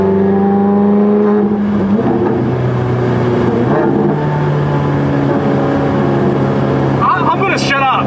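A Ferrari 430 Scuderia engine with its first modification, revving loudly and close by, the pitch climbing and falling through several pulls, with a brief squeal near the end.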